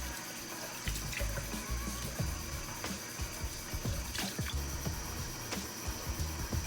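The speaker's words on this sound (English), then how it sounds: "I know, Sumi, the water is freezing." Cold water runs steadily from a bathroom tap during face washing, a continuous close hiss and splash with small irregular splatters and drips as hands move through the stream.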